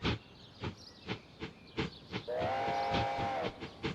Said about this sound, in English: Ooh, it's an angry whistle.